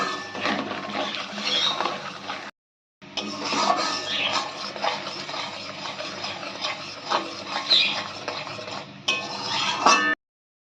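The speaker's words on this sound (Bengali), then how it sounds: "মিনিট 5 ভালো করে আমরা মশলাটাকে কষিয়ে নেব।" Spice masala with a splash of water is stirred and sautéed in a pan for eggplant and hilsa curry: close, busy scraping and metallic clinks over a low sizzle, broken by a brief silence.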